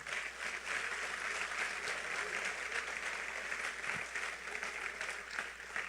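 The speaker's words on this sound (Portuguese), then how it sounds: "Pode aplaudir a ele." A church congregation applauds in a steady, dense wash of clapping that holds at an even level throughout, heard from some distance.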